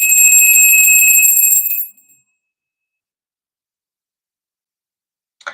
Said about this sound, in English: signing out with the bell